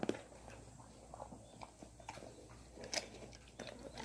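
Close crunching and biting sounds as something dry is chewed, with irregular crisp snaps over a quiet background.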